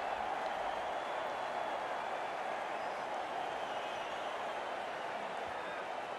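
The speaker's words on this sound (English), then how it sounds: "The crowd on their feet." A cricket crowd applauds and cheers a boundary four at a NACO amateur league match between the Tampa Bay Flyers and Houston Stallions, a dense, continuous wash of clapping and voices holding steady throughout.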